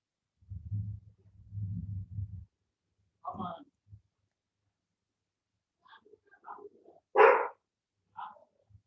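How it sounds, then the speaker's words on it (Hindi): A dog lets out a few scattered barks, one sharper than the rest, amid low murmuring sounds and otherwise quiet surroundings. "सर डॉग के भौंकने का साउंड आ रहा है बहुत ज्यादा।"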